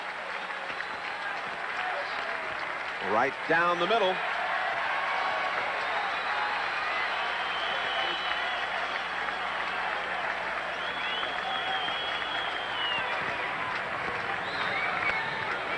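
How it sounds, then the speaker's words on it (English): Stadium crowd noise at a Cardinals vs Giants baseball game in San Francisco, a steady roar of fans whooping and cheering throughout, with an announcer talking briefly over it. "this crowd whooping it up"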